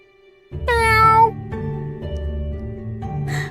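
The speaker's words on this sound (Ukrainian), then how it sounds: "Там великий, жирний кіт внизу." A big, fat cat gives one loud, drawn-out meow up close, followed by a person talking.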